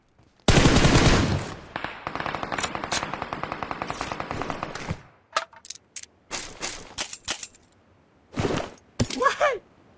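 Rapid automatic UMP gunfire in a shooter video game, a long sustained burst followed by shorter scattered bursts and single shots, loud and close.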